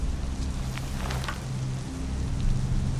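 Steady rain falling in a dark, rural setting of The Picture in the House horror game, a continuous close hiss of drops on surfaces with a low rumbling bed underneath, no voices.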